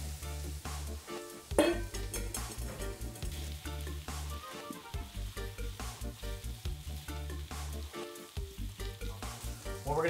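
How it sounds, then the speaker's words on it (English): Meatballs dropped into a pot of sizzling mirepoix, with loud continuous frying and rhythmic stirring that pulses steadily throughout over a low repeating backing beat. "We're going to take our meatballs at this point. Just dump them on in."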